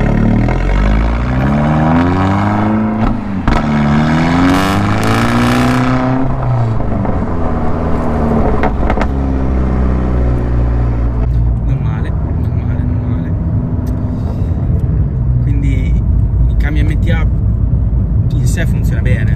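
A Fiat 500 Abarth with an MTA automated manual gearbox accelerates hard in fourth gear, its engine note climbing loudly in pitch before settling into a rougher, noisier roar, while someone speaks over it.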